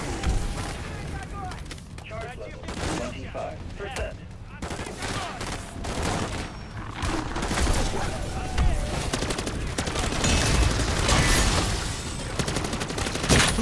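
Guns fire steadily in Modern Warfare Zombies: dense, sustained bursts of shots and booms run throughout, with occasional voices mixed in.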